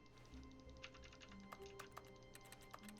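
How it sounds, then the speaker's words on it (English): A keyboard typing sound effect from The Stanley Parable video game clatters in quick, irregular bursts of keystrokes, soft and close over a faint background hum. "It's like a keyboard typing sound everywhere but that."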